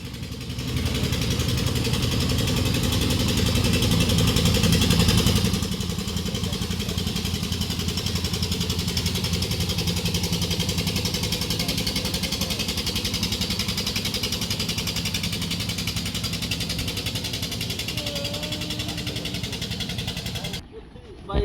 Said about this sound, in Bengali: কেমন যুদ্ধ করে নৌকাটা চলে আসছে দেখুন স্রোতের বিপরীতে